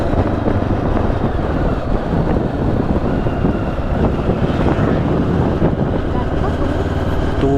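A KYW ARY 500 motorcycle engine drones steadily while riding, loud and continuous, heavily mixed with wind buffeting the microphone throughout.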